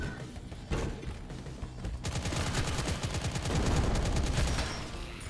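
Enemy gunfire in the Doom-like shooter game Impaler: rapid, close bursts of machine-gun-style shots rattle almost continuously, with a heavier thump at the start and a voice briefly heard.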